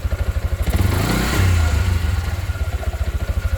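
A Yamaha Jupiter MX motorcycle engine, a bike with a no-start fault under repair, is revved up and eased back down close by, its rapid pulsing firing loud throughout.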